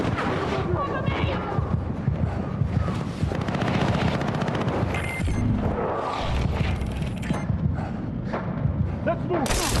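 Gunfire in the battle-royale game PUBG: bursts of shots and booming blasts over a dense, loud game soundscape, with a player talking over the action.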